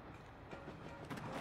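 A moving train in the Paper Mario TTYD remake video game rumbles along at low volume, a soft steady rolling hum with faint clattering pulses toward the end.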